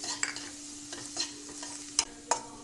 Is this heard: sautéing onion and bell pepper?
yes